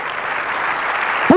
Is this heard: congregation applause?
yes